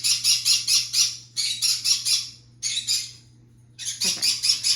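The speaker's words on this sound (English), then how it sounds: "That is my bird, Bubby." A pet bird squawks and chirps in rapid, loud bursts close by, with short pauses between volleys and no talk.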